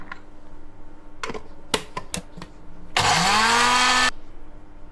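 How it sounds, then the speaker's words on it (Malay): A kitchen blender grinds red chillies and bird's eye chillies for sambal lado, switching on with a rising whir for about a second after some clicks and clatter, then cutting off. "Okey, kita kisar hingga jangan halus sangat ya."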